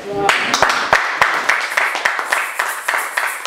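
A congregation at a French church service claps in praise, with scattered sharp hand claps that build into a rapid, uneven stream of applause. The clapping is close and lively, and a voice can be heard speaking beneath it.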